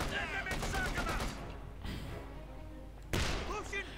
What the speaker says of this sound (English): The infantry is continuing to fire with 50 caliber